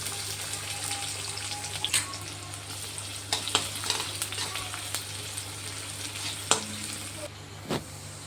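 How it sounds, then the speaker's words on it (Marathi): Chopped onion fries in a pan with a steady, close sizzle, punctuated by several sharp scrapes and clinks of a spoon stirring against the pan. "आता कांदा टाकून घेऊ"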